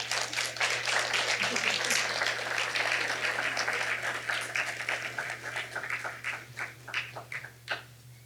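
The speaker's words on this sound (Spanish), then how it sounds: "Un fuerte aplauso," An audience claps after a lecture on partial differential equations. The applause starts as a full, steady patter from many hands, then loosens into scattered, fading claps over a low steady hum.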